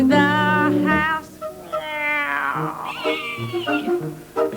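Someone on a 1991 children's TV programme, ABC Play School, sings in imitation of an old grey cat, with drawn-out, wavering meow-like tones in a sing-song rhythm, close and clear.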